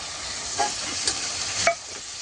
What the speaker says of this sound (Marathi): परतून घेऊया छान. भाजीला छान तेल सुटलेलं आहे.